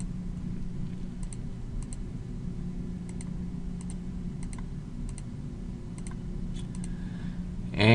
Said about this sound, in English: So let me go ahead and type in the data for list 1.